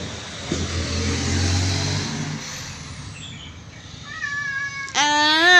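A cat meows in front of a house, with a few rising calls and then a loud, drawn-out meow near the end, after a vehicle engine rumbles past and fades.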